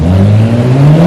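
A BMW E92 335i turbo car fitted with an ECS Tuning blow-off valve and charge pipe revs loudly from an outside perspective, a brief rising engine drone with no talking.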